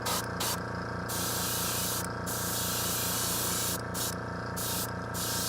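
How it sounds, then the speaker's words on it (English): An electric fan runs steadily and loudly in a painting workshop, a constant broadband whoosh with a low hum, with brief dips in the high hiss. "Press our fan back on."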